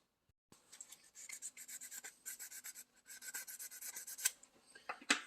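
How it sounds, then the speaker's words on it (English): 120-grit sandpaper rasps back and forth in short, uneven strokes, close and fairly quiet, with brief pauses between passes, on a table saw. "I think it's just 120 grit sandpaper"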